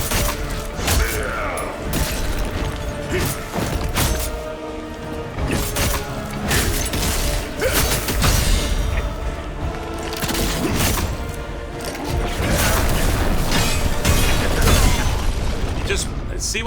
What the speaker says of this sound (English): You heard me parry every single one of those swings.